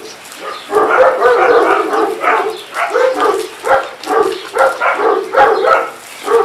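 A dog barks and yelps repeatedly at close range in an irregular series of sharp calls, loud and mostly alone.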